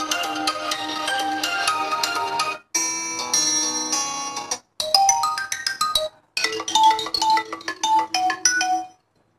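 Ringtone sound effects played on an Infinix Hot 8 phone, several short melodic chime tunes in separate bursts with brief silences between, clear and alone.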